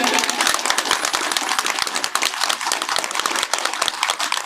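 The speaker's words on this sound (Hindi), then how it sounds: "ताली बजाएं सभी।" Guests at a Buddhist wedding in Khairati Nagar, Ghaziabad, clapping during the garland exchange, a dense, irregular patter of many hands sustained throughout, fairly close, with faint voices mixed in.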